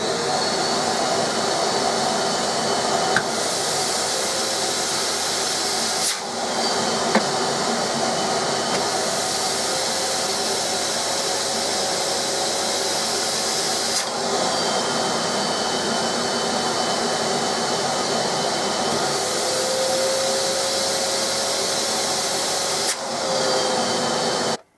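A Nilfisk Aero 26-21 workshop vacuum runs at a constant loud roar, a steady whooshing drone with a few brief dips as it sucks up a heavy glue bottle.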